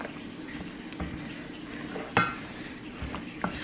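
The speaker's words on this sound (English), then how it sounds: "So you want to stir it up really good." Cornbread stuffing mixture with eggs and liquid being stirred in a bowl, soft wet scraping with a few clinks of the spoon against the dish, close and fairly quiet.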